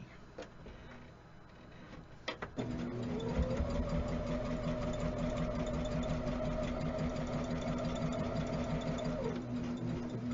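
A sewing machine stitches quilt seams in a steady, even whir that starts after a few quiet clicks, holds for several seconds and then slows at the end.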